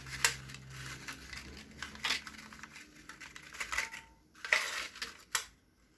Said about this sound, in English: So now arrange the molder in a baking tray.